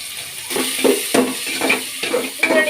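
Chopped onion tipped into hot oil for a simple avarekai palya, sizzling in a string of sharp crackling bursts with steady frying hiss between them, close and fairly loud.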